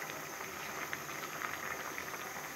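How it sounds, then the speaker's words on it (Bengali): Potatoes boil in a pot of water on a home stove while cooking singara, giving a steady close bubbling hiss with soft irregular pops that runs throughout. "আমাদের আলুগুলোতে বলক উঠেছে।"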